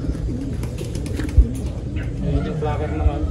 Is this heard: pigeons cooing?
yes